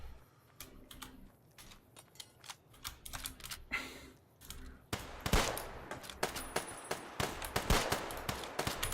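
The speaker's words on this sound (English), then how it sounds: "I can't tell if that guy's shooting at me or them" Gunfire in Fallout: New Vegas crackles as sharp scattered shots, sparse at first and then denser and louder in quick irregular bursts.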